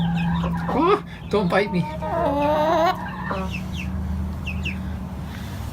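Chickens clucking and calling close by, with several short squawking clucks in the first half, while a person talks over them, set against a steady low hum.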